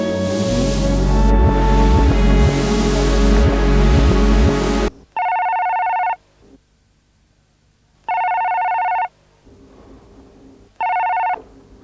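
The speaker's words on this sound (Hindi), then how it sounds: "ये फोन की टर्न टर्न खत्म नहीं होती है" A telephone rings in repeated electronic trills, three evenly spaced bursts with quiet gaps between them, following a loud passage of music.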